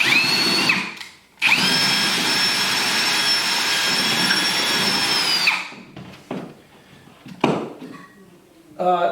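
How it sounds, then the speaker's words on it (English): A power drill whines steadily for several seconds at close range, then stops, followed by brief handling clatter and a short burst of drilling. "I aim it back at me, and I drill in the corner, the inside corner right here"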